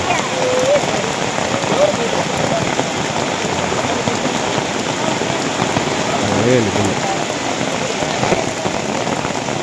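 Heavy rain pours steadily and close by during a protest over a collapsed main road, with a constant hiss of drops on surfaces throughout and faint voices briefly audible beneath it.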